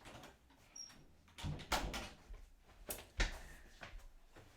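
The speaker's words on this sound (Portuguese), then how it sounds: "Vou ter que fechar a porta aqui rapidinho" A door is closed indoors, giving a few soft knocks and clunks with a faint squeak, quiet and close, spread over several seconds without speech.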